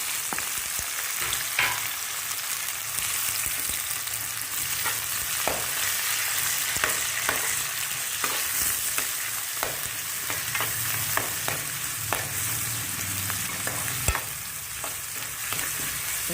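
Green chilies fry and sizzle in hot oil with occasional stirring scrapes in a pan while making upma, a steady close crackle throughout with no voices.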